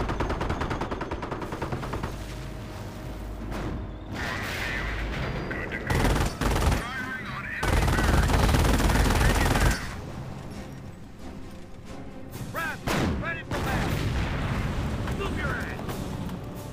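A machine gun nest fires in Company of Heroes, long bursts of gunfire and volleys mixed with heavy explosions, with voices talking over the battle.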